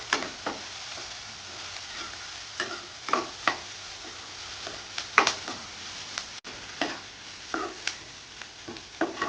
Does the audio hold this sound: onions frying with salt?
yes